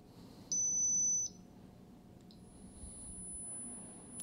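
A circuit board emits a high-pitched electronic beep twice in quick succession, thin and piercing, over a faint low background hum.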